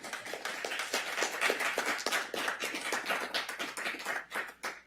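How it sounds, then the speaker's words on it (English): A small group claps in a city council chamber after a unanimous vote, dense irregular hand claps filling the room at moderate level for about five seconds and tapering toward the end, with no talk over them. "We'll allow the clapping this one time."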